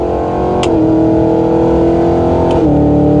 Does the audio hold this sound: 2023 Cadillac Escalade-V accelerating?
yes